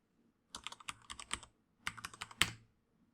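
Quick bursts of keystrokes on a computer keyboard while entering employee data into a form, two close clusters of crisp clicks separated by a short pause, quiet and without speech.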